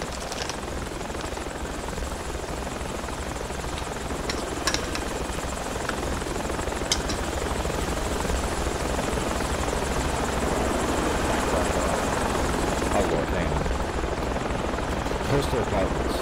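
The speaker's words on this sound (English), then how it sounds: "Ah, there is no boat. The chopper." Helicopter in the tactical shooter Project Reality, a loud, continuous rotor and turbine roar running the whole time, close and steady, with a few sharp clicks on top.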